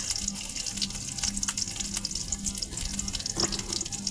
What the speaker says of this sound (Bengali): দেখতে পাচ্ছেন আমার পেঁয়াজ রসুন ভাজা হয়ে আসছে।